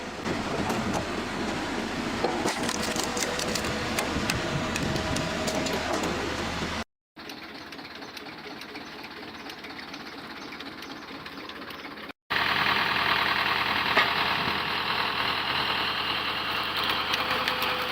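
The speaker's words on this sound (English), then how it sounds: "the cone log splitter mounted to a tractor is in steady operation" A cone log splitter mounted on a tractor runs steadily on an open plot near the woods. A continuous, fairly loud mechanical engine drone holds steady, broken by two abrupt short cuts, with no talking.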